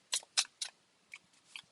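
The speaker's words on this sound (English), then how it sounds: "New decks take a fair bit of shuffling." A new deck of playing cards being shuffled close by, with three crisp riffling bursts followed by three softer, quicker flicks, quiet and alone.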